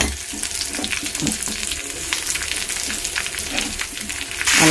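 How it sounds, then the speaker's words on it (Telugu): Curry leaves and onions frying in hot oil, a dense crackling sizzle with scattered spatters and a few stirring clatters, close and steady, swelling louder at the very end. "నూనెకి కరివేపాకు, ఉల్లిపాయలు బాగా వేయించేసుకుందాం"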